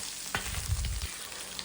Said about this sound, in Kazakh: Алдымен қызып тұрған қазанға ештеңе салмай қойдың құйрығын шыжғырып аламыз.